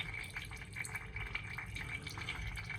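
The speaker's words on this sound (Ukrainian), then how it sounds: "Це я вам хочу показати, отака струєчка тече через оцей ось клапан." A thin stream of water trickles steadily through the faulty valve of a toilet cistern that is wasting water. The sound is a close, continuous soft hiss and patter with no talking.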